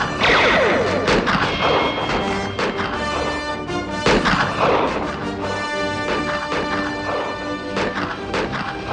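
Gunfire from a 1958 western film, The Big Country: a dense barrage of loud overlapping shots and crashing impacts, sustained for several seconds with repeated sharp bursts, no speech.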